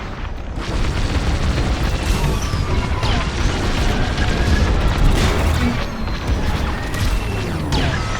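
Starfighter space combat in the video game Star Wars Squadrons, with a loud, dense barrage of blaster fire, crashing impacts and rumbling explosions that continues without a break.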